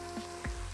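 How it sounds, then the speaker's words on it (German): Soaked soy chunks and dried porcini mushrooms frying in a pan for a vegan cabbage goulash, a short, close sizzle with a brief flare of crackle partway through. "drückt die hier so ein bisschen aus und brutzelt die hier schön scharf mit an"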